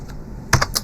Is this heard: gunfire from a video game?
no